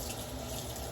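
Kitchen tap water runs steadily while something is washed off under it, a continuous even hiss of flow with no voices.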